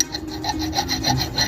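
A file rasping back and forth against a welding rod, steady rhythmic scraping strokes up close, with no talk over it.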